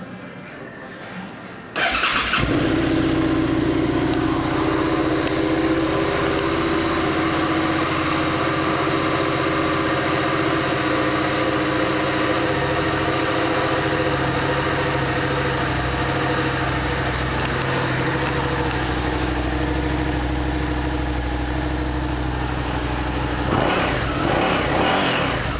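A 2017 Suzuki SV650 motorcycle engine fires up and settles into a steady, close, loud idle, running evenly until a brief rise near the end.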